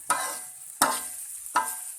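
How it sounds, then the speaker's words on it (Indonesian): Grated coconut frying in a pan while being stirred, three sharp sizzling bursts about every three quarters of a second, each fading into a softer crackle, close and clear with no talking. "Kelapa parutnya kita goreng lebih dulu supaya matang sempurna"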